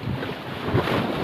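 Rough sea waves breaking on the coast at Kapaluhan, Calauag, Quezon Province, a continuous loud wash of surf mixed with strong wind buffeting the microphone.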